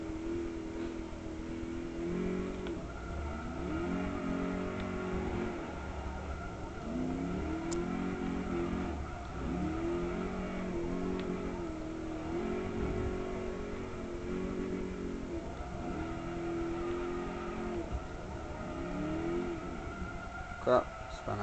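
A car in the Forza 3 racing game revs in repeated rising and falling bursts as it drifts and spins out, the engine note looping steadily at moderate volume while a voice speaks over it.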